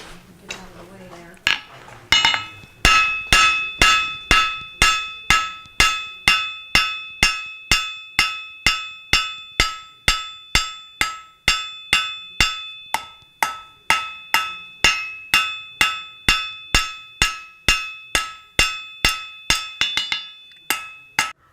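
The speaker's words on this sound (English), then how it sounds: "All right, let's hammer some more." Steady, ringing blacksmith hammer blows on metal, roughly two per second, each strike clanging bright and resonant, continuing for a long stretch after a brief quieter start.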